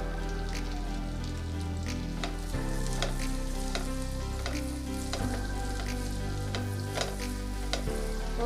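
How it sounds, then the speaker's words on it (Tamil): Chopped onions sizzle steadily in butter in a hot pan while a utensil scrapes and stirs them at irregular intervals. "ஒரு நிமிஷம் நல்லா வதக்கிடலாங்க"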